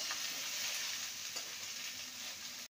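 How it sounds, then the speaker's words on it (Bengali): Sliced okra frying in oil with no salt or turmeric, a dense, even hiss of sizzling close by, quiet overall, lasting a few seconds before cutting off abruptly, with no voices. "এবার ভেন্ডিগুলোকে ভেজে নেব।"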